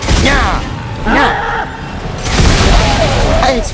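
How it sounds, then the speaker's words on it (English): Explosions in Dead Space 3, heavy booms that swell and fade several times among game effects and music, with a voice talking over parts of it. "I exploded myself again."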